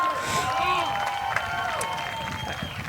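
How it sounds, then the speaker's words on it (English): Ballpark crowd at a summer collegiate baseball game between the Arroyo Seco Saints and Santa Barbara Foresters, cheering and clapping after a catch in left field, mixed with shouts and voices. "Crowd going wild for a great play out there in left field."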